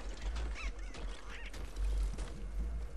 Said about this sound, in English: Oh my god, I hear a duck.